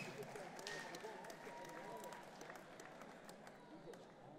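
Audience applause at a boxing event, Lyndon Arthur v Adam Williams at Victoria Warehouse, a steady wash of clapping and crowd noise filling the hall under a commentator's voice.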